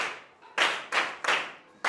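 A classroom of pupils claps hands together in four loud, separate bursts, each sharp group clap landing roughly a third of a second apart.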